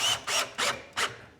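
An impact screwdriver drives a small screw into softwood, giving four short, loud bursts of rattling, hammering whir, each about a quarter second long, separated by brief pauses and heard close up with no voices.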